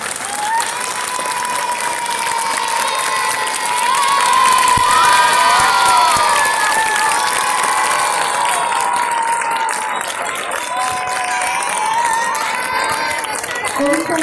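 A crowd of children at an outdoor campaign rally in Mathura claps loudly and continuously, mixed with cheering and shouts that swell midway and stay busy throughout.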